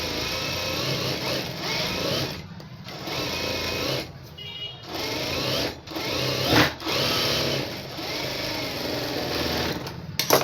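A sewing machine stitches a blouse lining in fast, continuous runs of whirring needle strokes, broken by a few brief pauses and restarts, close and fairly loud.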